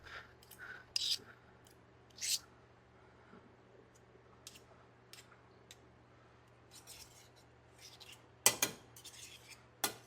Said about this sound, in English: we're just going to grab 8 tablespoons of butter out of here